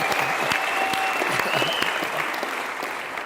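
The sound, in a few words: applause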